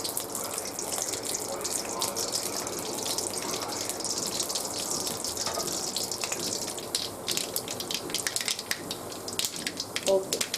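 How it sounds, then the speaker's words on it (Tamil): Mustard seeds crackle and splutter in hot sesame oil for a village-style pepper chicken kurma, a steady dense sizzle with scattered sharp pops, close and continuous throughout. "இப்போ கடுகு நல்லா பொரியுது"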